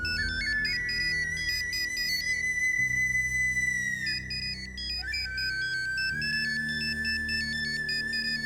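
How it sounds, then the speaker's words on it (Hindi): A mobile phone ringtone plays during a classroom lesson, a bright, repeating electronic melody, loud and close, continuing steadily for several seconds with no talking. "फोन बज रहा है इनका।"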